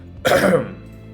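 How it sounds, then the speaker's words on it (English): A single throat clearing from a character in the video game Dream Daddy, one short, close, rasping burst lasting about half a second against quiet background music. "I clear my throat."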